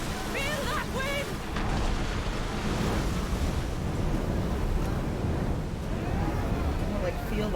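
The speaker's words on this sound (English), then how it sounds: "Feel that wind!" Wind rushes and waves surge steadily around a sailing ship at sea in Assassin's Creed, a loud continuous roar with voices talking over it throughout.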